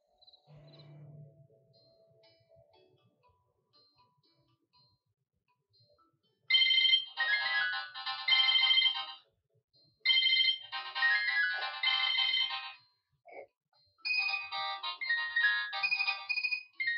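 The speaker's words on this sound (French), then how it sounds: "Ton téléphone sonne." A mobile phone ringtone rings loudly in three repeated bursts separated by short pauses, following a quiet stretch with a faint low tone near the start.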